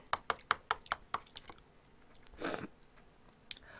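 Bossam, boiled pork wraps, are chewed close up in a rhythmic run of wet, crunchy bites, followed by a brief rustle and a final bite, with no talking.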